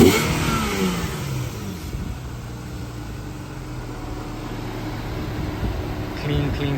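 An Infiniti G37 sedan fitted with resonated test pipes revs, giving a steady, droning exhaust and engine hum that swells slightly at the start and end, close by under a constant high whine.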